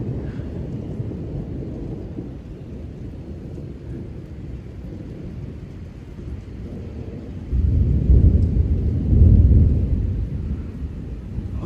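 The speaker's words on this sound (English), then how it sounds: "I hate when that thunder goes like, vroom, vroom" Thunder rumbles through a severe thunderstorm with strong wind gusts in Frisco, Texas, a low continuous roll that swells into a loud, deep boom near the end, with rain noise underneath.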